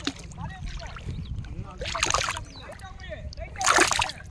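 Large fish, tilapia among them, thrash in the shallows of a village pond drained for fishing, making two sharp splashing bursts against a low background while people talk excitedly nearby.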